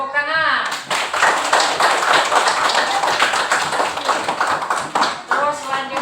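A classroom full of students claps in dense, steady applause lasting several seconds, loud and close.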